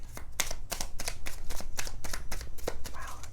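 Oracle cards being shuffled by hand during a reading, a rapid run of crisp riffling snaps and flutters repeating steadily throughout, close and fairly loud with no talking.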